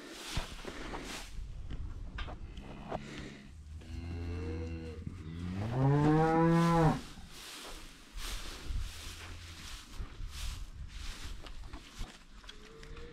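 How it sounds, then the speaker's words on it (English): Beef cattle and a calf on a ranch moo close by, with one long, drawn-out moo standing out among shuffling footsteps and barn noise. "Get, Danette, that's his calf."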